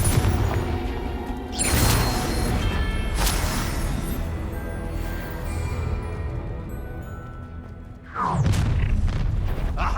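Fiery Confringo spell blasts in the Hogwarts Legacy video game: three loud booming bursts, one near the start, another around two seconds in and a final one near the end, separated by rumbling effects and background music.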